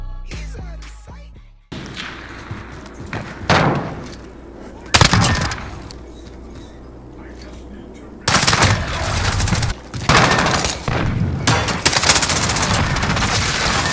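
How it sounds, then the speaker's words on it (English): Rapid bursts of video game gunfire from a Search and Destroy match, loud automatic volleys and single shots coming in clusters, with several heavy stretches of sustained firing. "Gunshot."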